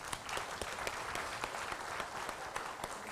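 A live public broadcast audience in Jeonju gives a short round of applause. The clapping is steady and fairly soft, with individual claps standing out across the crowd.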